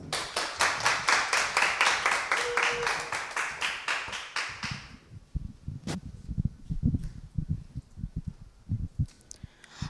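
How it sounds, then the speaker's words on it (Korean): School audience at a girls' middle school dream-presentation contest gives dense, steady applause for nearly five seconds, then it stops abruptly, leaving faint scattered taps and room noise. "박수로 첫 번째 발표자를 맞이해 주세요"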